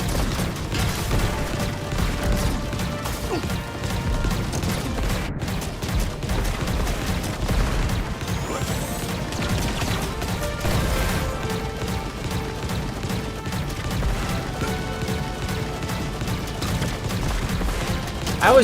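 Dense, sustained gunfire and explosions from a retro Contra-style shooter, with machine guns and cluster-bomb blasts overlapping loudly and continuously throughout.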